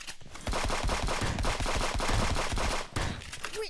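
Shotgun blasts in the video game Friends VS Friends, a dense, loud barrage of sharp booming shots close together that stops briefly near the end before starting again.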